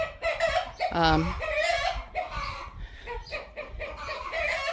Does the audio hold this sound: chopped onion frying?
no